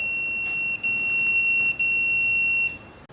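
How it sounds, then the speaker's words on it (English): A Tuya smart video doorbell sounds three long electronic beeps in a row, each steady and shrill, separated by brief gaps, loud and close with nothing else audible. "Shortly press it for 3 times and 3 long beep heard."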